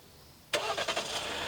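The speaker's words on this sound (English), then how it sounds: "The vehicle starts right up for you." A 2019 Jeep Cherokee Trailhawk with the 2.0-litre turbo engine fires up by remote start: a quiet lull, a sudden crank and catch, a few quick pulses, then a steady idle close by.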